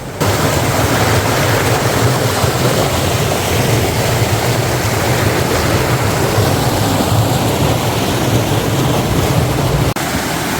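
A stream on the Bali rice terraces, fed by water running down from the upper paddies, rushes in a steady, loud, unbroken wash with no voices over it.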